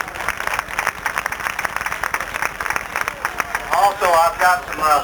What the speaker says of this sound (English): Let's have a nice round of applause for Ramo Stott.